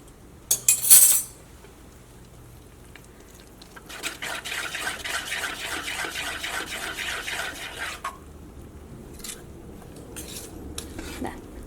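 Metal spoon clattering and stirring rava, egg and milk batter in a bowl, a few sharp clinks at first, then a steady scraping, swishing mix that pauses and resumes in short bursts, close and fairly quiet.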